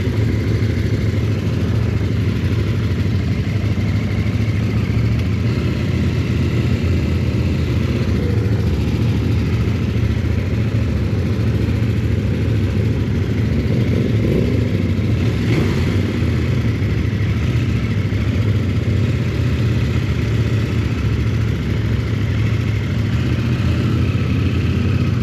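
A CF-Moto 800NK motorcycle engine sits at a high idle, a steady close rumbling whir holding an even pitch for a long stretch with no voices.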